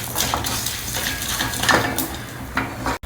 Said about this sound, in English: We'll roast all these ingredients well.